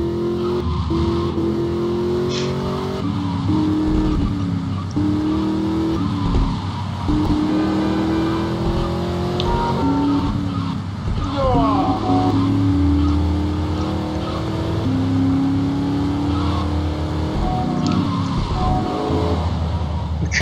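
A car in GTA Vice City drives and accelerates, its engine whine rising and falling with gear changes and occasional tyre squeal, loud and continuous, with faint talk underneath.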